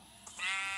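Sheep in Minecraft give a short synthetic bleat that swells near the end, heard alone and close.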